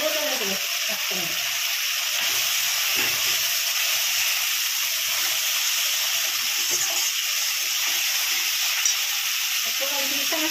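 Salt, turmeric, cumin and coriander powder sizzle in a pan for a prawn kofta curry, giving a continuous bright hiss with faint stirring scrapes and no pauses.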